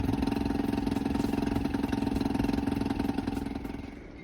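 A Honda BF2.3D long-shaft 2.3 hp auxiliary outboard motor on an Orkney Strikeliner 16+ boat runs steadily at idle with a close, even pulsing throb that eases slightly near the end, with no voices.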